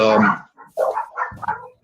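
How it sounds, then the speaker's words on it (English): Dogs barking nearby in several loud, separate barks and yips, a short burst of barking with brief gaps between calls. "there's the dogs"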